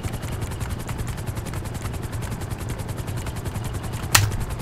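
Akula attack helicopter in GTA 5 Online, its rotor thumping in a steady fast pulse under continuous engine whine, with a sharp loud burst near the end.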